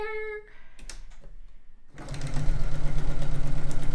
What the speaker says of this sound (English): I'm sewing on both sides of the drawn line on the diagonal